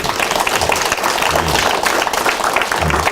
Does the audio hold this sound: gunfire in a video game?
no